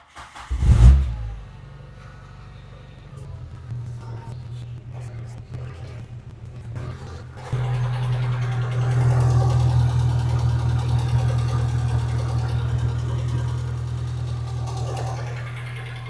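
A Renault Clio 172 cranks and fires with a short loud burst, then settles into a steady low idle; midway the engine note steps up and holds heavier while the power steering is worked during a fluid change.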